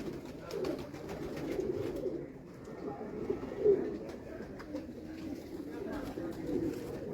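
Paired pigeons of one breed kept on a rooftop loft coo steadily in soft, overlapping rolls, with muffled voices talking in the background.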